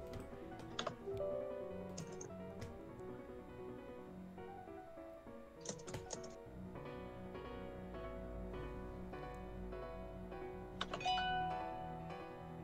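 A mechanical keyboard with red switches typing, quiet clacking keystrokes in irregular bursts with a few louder taps over faint background music, no voices.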